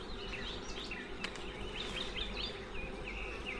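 Honeybees buzz steadily and close during a beehive inspection, a dense continuous drone with individual bees whining past in rising and falling passes.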